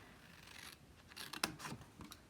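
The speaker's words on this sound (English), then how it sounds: "take some of our paper snips, and we're going to do a little bit of cutting" Paper snips cutting along scored paper while making a box, a quiet close series of crisp snipping cuts clustered in quick succession near the end.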